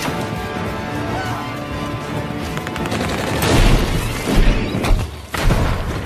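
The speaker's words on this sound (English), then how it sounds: "they just throw a grenade into the bus" A grenade blast inside a bus amid a firefight, heard as a dense barrage of gunfire and booms with heavy crashing bursts near the end, loud and chaotic with no speech.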